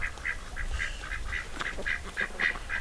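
Domestic ducks give a run of about ten rhythmic, nasal quacks in quick succession, close and moderately loud, with an odd chuckling, laugh-like quality over a low outdoor rumble.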